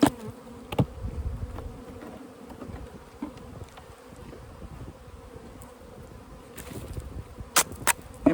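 Honeybees in a winter hive cluster buzz as a low, continuous hum, faint and close, with a few sharp knocks and clicks from handling the frames; no voices.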